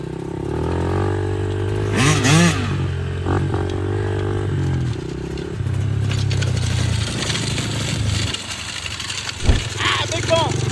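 A dirt bike engine revs and idles nearby, its rear tire wrapped in duct tape, with a first-gear clutch dump, a loud rising rev, a rough idle and a sharp thump near the end, while people talk over it.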